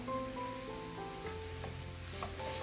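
Banana and sugar being stirred in a pan over a medium flame, a steady sizzle running throughout with a few soft utensil scrapes and taps against the pan, no talking.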